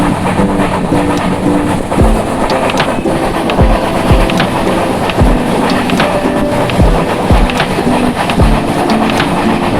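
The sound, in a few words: Konkan Kanya Express train running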